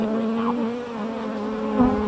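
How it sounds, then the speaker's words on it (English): Agitated honey bees buzz around an open hive during a queen inspection, a steady close-up drone of many wings, with no speech. "These bees are not happy."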